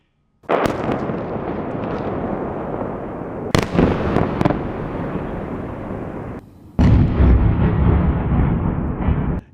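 Loud, continuous explosions from a Russian night attack on Kyiv, Ukraine, booming and crackling without pause, with sharp bursts near the fourth second and a heavier blast wave from about 6.8 seconds onward.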